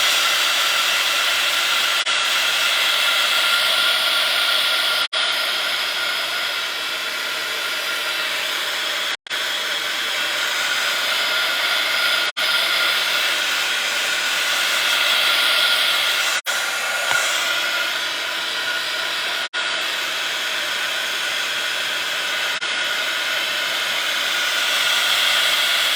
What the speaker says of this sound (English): I am going to have to give that a bit of a heat gun again